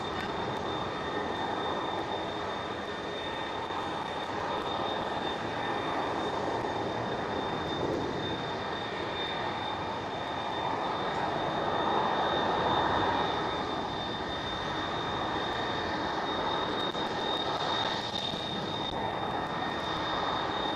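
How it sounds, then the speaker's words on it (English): A KLM Boeing 737 jet taking off at Amsterdam Schiphol airport produces a steady, loud, continuous engine roar with a high whine, swelling slightly in the middle and sustained throughout. "And this A330, they are allowed KLM 737 taking off"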